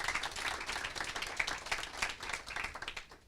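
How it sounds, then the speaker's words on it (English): Brisk audience clapping for a mixed reality industry panel, a lively burst of applause with distinct individual claps throughout. "So give them a big round of applause."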